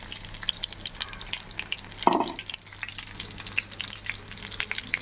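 Large soybean chunks fry in hot oil with a constant fine sizzle and crackle, and a brief utensil clatter partway through as pieces are handled in the pan.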